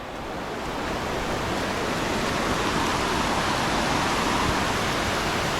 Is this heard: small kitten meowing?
no